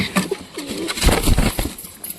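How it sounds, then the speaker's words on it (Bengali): A domestic pigeon coos softly close by beside its two newly hatched chicks, with low, rolling calls and faint rustling over a short stretch. "তো ফাইনালি আমার এই কবুতরের দুইটা বাচ্চা ফুটে গেল"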